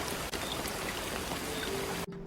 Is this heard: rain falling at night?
yes